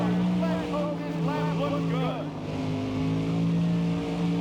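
A NASCAR Thunder 2004 race car engine drones steadily and loudly in the game during first laps at Las Vegas, its pitch wavering slightly as it holds speed.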